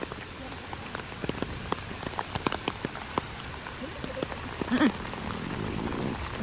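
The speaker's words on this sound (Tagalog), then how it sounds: "Have to go out even though it's raining." Hard rain during Typhoon Krising in Mabinay, Philippines, a constant close hiss of downpour with individual drips and splashes tapping through it.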